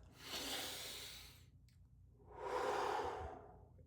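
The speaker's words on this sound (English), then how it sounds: "Kind of did a big mouth breathe in there" Two big breaths drawn in through the mouth, loud and close, the first swelling and fading, then a pause and a second, stronger inhale; no talking.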